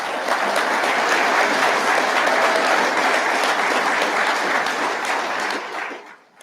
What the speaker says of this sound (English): I think these 27 deserve an extra round of applause.